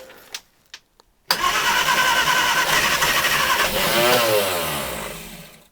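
An old petrol engine is primed with a little fuel. After a few faint clicks it catches and roars into a loud, steady idle up close, then its pitch wavers briefly before it keeps running.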